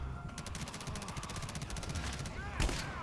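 Rapid automatic gunfire in the co-op shooter GTFO: a fast, steady stream of shots for about two seconds, then a single heavier blast near the end, mixed with background game sounds and voices.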